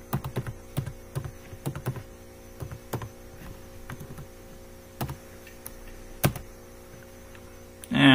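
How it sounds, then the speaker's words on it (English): Keys on a computer keyboard click in irregular bursts and single strokes at close range, over a low steady mains hum, with a louder knock at the very end. "And I can type something more. I will just type."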